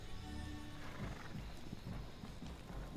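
A horse in the video game Hytale neighs and whinnies while its hooves clop steadily close by, loud and continuous over a low game background.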